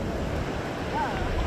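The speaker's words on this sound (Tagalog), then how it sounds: "Sobrang lakas na hangin." Strong wind at the sea on a coast, a loud, continuous roar buffeting the microphone, with a faint voice briefly audible underneath.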